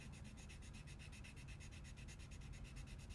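Sandpaper rubbed back and forth across the top of a small model, a steady, close, continuous rasping scrape with even rhythm and no voices.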